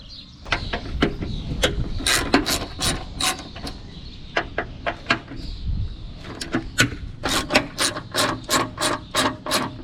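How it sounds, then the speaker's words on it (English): Ratchet wrench clicking in quick, uneven bursts while loosening the wing screws on a Mercedes 320d, close and moderately loud, with short pauses between runs of rapid ratcheting. "I need only to unscrew them 2 screws for the wing."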